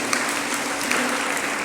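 Audience applause at a religious discourse, a dense, steady patter of many hands clapping together at moderate loudness for a short stretch, with no voices over it.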